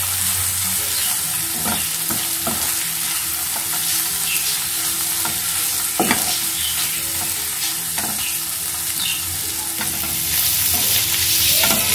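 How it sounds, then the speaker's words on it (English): Noodles with pepper powder are stirred and tossed in a hot pan for Chinese noodles, giving steady close sizzling with regular scraping and clanking strokes throughout, no voices. "give it a good mix"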